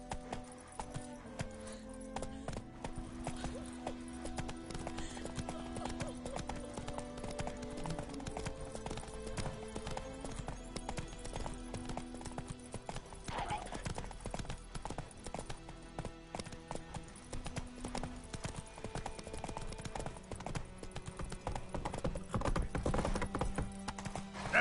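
Hooves of Roach, a horse in The Witcher 3 video game, beat a rapid, steady galloping clip-clop throughout at low volume, with game sounds and occasional voices alongside.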